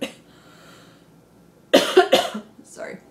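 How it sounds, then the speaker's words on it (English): A woman coughs several times in a short, close burst, her throat still irritated after a breathing tube, following a brief quiet breath. "I had a tube down my throat, so even though now the sore throat is gone, I still have a bit of the cough."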